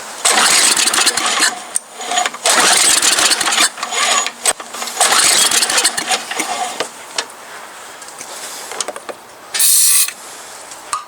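An MTD Yard Machine snow blower's engine is cranked with its electric starter, loud close whirring bursts of spinning that cut in and out repeatedly, the engine turning over without catching.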